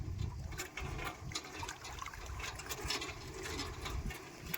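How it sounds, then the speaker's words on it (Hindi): Water sloshing and rushing against a rope-pulled wooden boat crossing a river, a continuous close churning wash with faint mechanical creaks and no talk. "अब हम उस पार जा रहे हैं इस नाव के जरिए।"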